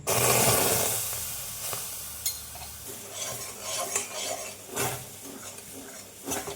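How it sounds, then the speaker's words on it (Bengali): Palm juice poured into a hot wok and stirred as it heats, opening with a loud rush and then settling into a moderate sizzle broken by intermittent metallic spatula scrapes and clinks. "তালের রসটা আমি কড়াতে দিয়ে দিলাম"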